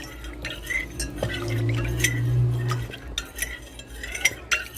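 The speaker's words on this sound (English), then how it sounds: "Then we're going to add the cold water now, 1 cup, and continue stirring" Jell-O stirred with a cup of cold water in a bowl, a spoon scraping and clinking against the dish in irregular taps over a soft liquid swirl, close and without talk.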